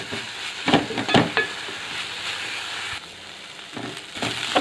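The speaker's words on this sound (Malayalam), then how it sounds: "പിന്നെ നല്ല രീതിയിൽ ഇതൊന്ന് വഴറ്റിയെടുക്കാം." Sliced onions sautéed for chicken biriyani masala sizzle steadily in a pan, with a few sharp scraping strokes of a spoon near the start and end, close up with no talk.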